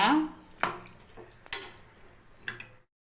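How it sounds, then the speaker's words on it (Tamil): Cauliflower being sautéed in a pan for a cauliflower gravy: three sharp utensil taps against the pan, spaced about a second apart, with a brief voice at the start and little sizzle audible. "காலிஃப்ளவர் சேர்த்தாச்சு நல்லா வதக்கிக்கோங்க"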